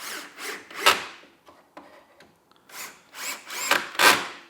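Cordless drill with a mechanical clutch driving screws into wooden kitchen cabinets: several close whirring bursts with gaps between them, some with a rattling clicking texture, no talking.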